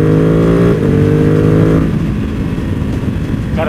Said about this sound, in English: Gotta vary the RPMs a little bit on that.